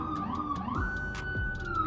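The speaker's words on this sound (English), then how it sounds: "I'm sorry about the siren." A police siren wails with rising and falling tones, loud and close, alongside low engine rumble and Doppler-like pitch shifts as it moves past.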